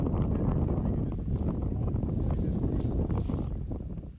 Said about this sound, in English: We're sailing in Maine right here on a beautiful day.